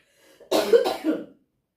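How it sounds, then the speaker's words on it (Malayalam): A single close, harsh cough breaks out in a couple of bursts, then silence. "ചുമയുണ്ട് കേട്ടോ"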